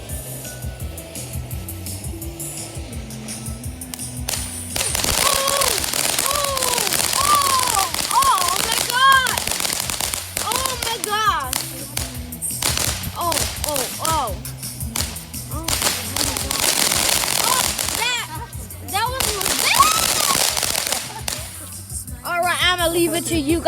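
Fireworks at a display burst and crackle in rapid, dense volleys, with loud pops and fizzing crackle repeating throughout, while people nearby talk and exclaim over the noise.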